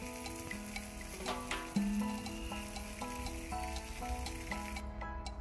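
Fish frying in a pan gives a soft continuous sizzle and crackle, fairly quiet and close, with occasional light pops and no voices, beneath faint tonal background music.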